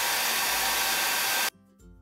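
A hair dryer blows a steady broadband rush of air over paint on an MDF craft piece, then switches off abruptly, leaving faint handling noises.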